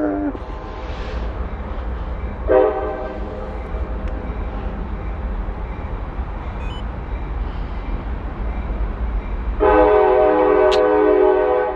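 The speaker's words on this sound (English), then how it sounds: "Apologize for the giant train horn," A loud train passing at night near a junkyard, with a constant heavy rail rumble and two long, blaring horn blasts, the second louder and closer, while a person talks quietly.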